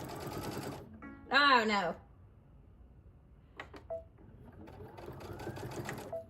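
A Brother sewing machine stitches quilted pumpkin placemats, a close mechanical whirring run that stops and starts in short bursts, with a brief spoken exclamation and a few electronic beeps between runs.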